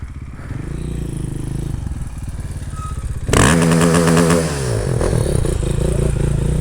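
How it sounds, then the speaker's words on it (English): A road-legal 2-stroke 125cc motorcycle idles with a rattling burble, then is suddenly revved hard into a loud, crackling, wavering rev bomb that holds high before settling back, close to the microphone. "I don't think he's happy at all for the rev bomb."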